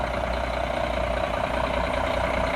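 Truck with a C10 motor and Allison 460 transmission idling after a first cold start, a steady loud diesel rumble close by, unbroken and without talk.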